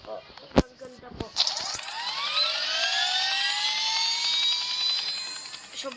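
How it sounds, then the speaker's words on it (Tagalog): A video-game helicopter spins up after a few sharp clicks, its rotor and turbine whine rising into a loud, sustained drone that holds steady to the end. "Sobrang bilis po ng helicopter."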